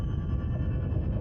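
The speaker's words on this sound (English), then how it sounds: "Again, here's an example of an earthquake" A hydrophone picks up an undersea earthquake as a steady, deep, low rumble with no distinct onsets, continuous and fairly subdued for its whole brief length.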